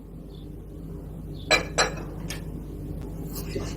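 Ingredients being stirred in a bowl while making dough for minced-meat pide, with a few distinct clinks of a utensil against the bowl over a quiet background.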